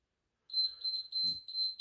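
Electronic timer beeps in a rapid series of short, high-pitched tones, with a brief low thump in the middle.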